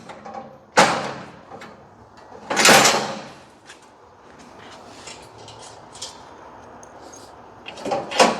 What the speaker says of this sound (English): So then we're gonna pull the pins out of this door.